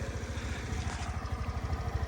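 2019 Suzuki Address 125 scooter engine running at idle, a quick even putter with light mechanical clatter, close by and steady.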